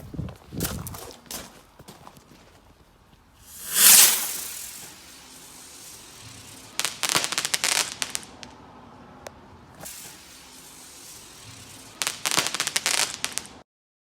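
A homemade firework rocket with a report, made from a ground bloom flower, launched outdoors: a sudden rising whoosh of ignition, followed by bursts of rapid crackling rattles with quieter gaps between them.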